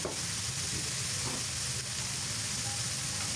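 Sliced green chilies and onions fry in a pan with a continuous close, hissing sizzle that holds at an even level throughout.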